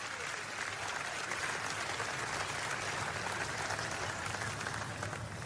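A church congregation applauds during a sermon, giving a steady, even wash of clapping that continues without a break. It sounds distant and fairly quiet.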